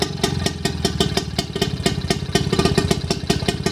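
A British Seagull 102 outboard motor idles steadily close by, its small single-cylinder firing in a quick, even pulse with a clattery, ticking edge throughout and no talk over it.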